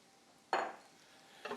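Stuffing mix, cranberries and vegetables are stirred in a pan, giving two quick scraping, rustling strokes, the first louder and the second short and softer, with near silence between them.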